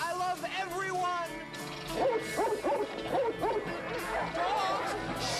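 Several dogs bark, yip and whimper at close range in a movie scene, a short burst early followed by a dense, excited run of high yelps and whines, with voices talking among them.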